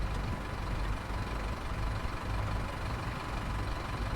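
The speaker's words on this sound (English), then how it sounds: "Oh, you can actually hear the bus." A bus engine idles in the Isle of Wight setting of the Train Sim World 2 video game, a steady low rumble that holds unchanged for a few seconds with no speech over it.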